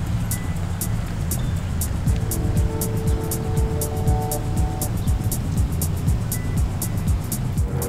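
A 1938 Cadillac limousine with running boards driving along, its low engine and road rumble steady and close throughout, with a brief tonal whine partway through.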